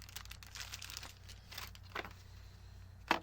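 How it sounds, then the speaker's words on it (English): Thin plastic bags being handled, with repeated crinkling and tearing bursts close by and a sharper rip near the end, heard alone without speech. "And it came in those little two plastic bags here."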